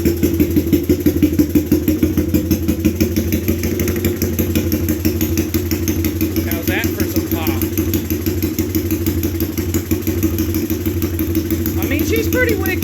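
A Honda ATC 200X three-wheeler fitted with a 389 cam idles loudly and close by, a steady rapid-firing engine rumble with some mechanical clatter that runs unbroken the whole time, with no talking over it.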